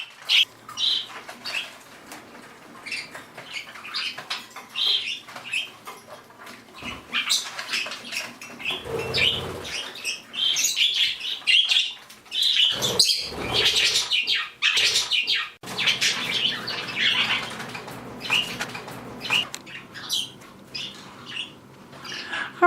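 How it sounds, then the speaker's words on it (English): Several pet budgies in a cage chirp and twitter continuously, with brief wing-flapping bursts and rustling, close and fairly loud with no talking. "all my budgies actually are in the cage"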